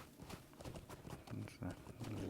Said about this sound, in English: let's just stay on the horse and let's just start galloping. Crash through the trees and the bushes.